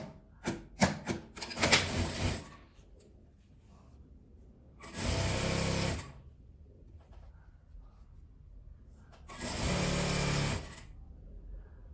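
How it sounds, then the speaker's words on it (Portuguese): A sewing machine stitches a fabric strap for a denim and cotton patchwork pouch, with a few short stuttering starts followed by two steady runs of close, quiet whirring separated by pauses. "eu vou costurar dos 2 lados, fechando ela."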